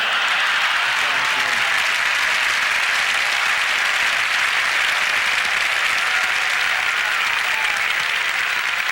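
Large crowd applauding the Pope, a loud continuous roar of clapping from many people that stays dense and unbroken throughout.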